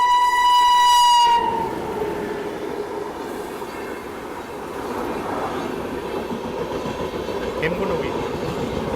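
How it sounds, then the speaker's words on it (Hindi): The Hemkund Express approaches a railway station, opening with a loud, sustained horn blast and then settling into a steady heavy rumble of rolling wheels and passing carriages that lasts to the end. "सामने शायद से हेमकुंड एक्सप्रेस आ रही है।"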